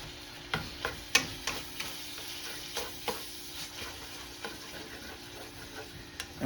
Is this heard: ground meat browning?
yes